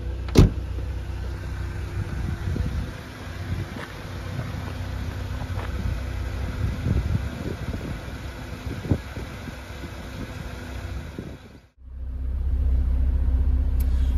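1991 Mercedes-Benz 190E 2.0 engine idling while warming up, a steady low rumble heard from inside the car with faint clicks, then a brief drop before the idle returns louder near the end.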